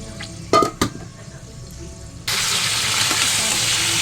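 Chicken stirred into a sizzling sauté in a pan, a few sharp metallic clanks of the utensil first, then a sudden loud, steady sizzle as the meat hits the hot pan.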